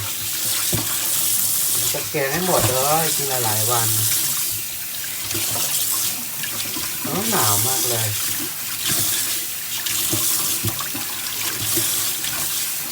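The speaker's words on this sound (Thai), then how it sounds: "เราจะมาล้างไก่ก่อนนะคะพี่น้อง" Tap water runs steadily into a sink while raw chicken is washed in a home kitchen, a continuous broadband rush close by with someone talking over it.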